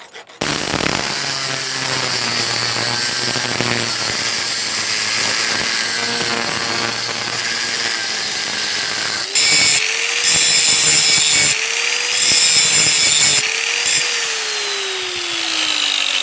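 A loud power tool cuts the sides off a steel woodsplitting maul head being made into a blacksmith's hammer. Its harsh, continuous whine runs throughout, with the tone shifting and wavering partway through.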